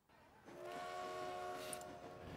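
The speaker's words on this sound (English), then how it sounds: "hopefully a train will turn up at some point" Steam locomotive train arriving in Transport Fever, the railway simulation game, with a Flying Scotsman engine: a low rumble swells in after a brief quiet and sustains with a steady rolling drone and tonal whine, no talk over it.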